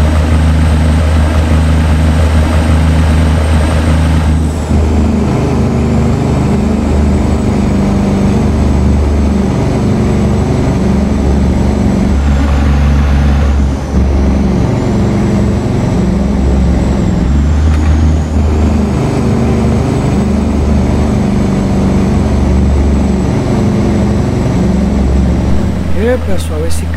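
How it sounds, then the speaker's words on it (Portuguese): A Cummins X15 diesel engine in a custom Peterbilt 389 hauling a large John Deere 9R tractor in American Truck Simulator drones loudly and steadily, a deep sustained rumble with a faint high whine, changing slightly as gears shift. "esse Cummins X15, hein? Tem um som e tanto"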